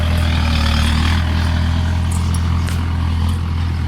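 Tractor engine running steadily in a farm field, a loud, continuous low diesel drone with a faint clattering texture and no voices over it.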